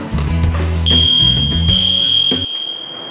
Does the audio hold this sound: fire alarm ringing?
yes